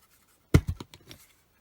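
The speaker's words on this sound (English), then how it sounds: "Just want to cut a little bit more off." Scissors trim a little more off a paper Halloween card, giving a brief cluster of a few quick, close snips that fade out within about a second.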